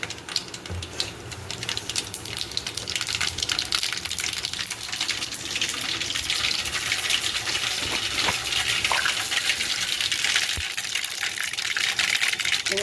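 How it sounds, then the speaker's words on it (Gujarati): Mustard seeds spluttering in hot oil for a tempering while patra is cooked: a loud, continuous hiss dotted with scattered crackles and pops that runs throughout, with no speech. "હવે હું તેલ આવી ગયું છે. હવે હું રાઈ નાખું."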